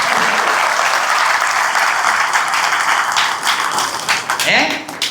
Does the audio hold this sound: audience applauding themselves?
yes